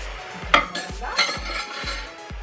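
Beef with onions and garlic stirred in a Cookeo pot, with a spoon clinking and scraping against the metal in a steady repeated rhythm, about five strokes, close and clear with no talk.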